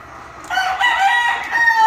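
A rooster crows once, loud and close, a long harmonic call that rises and holds to the end after a brief quiet start.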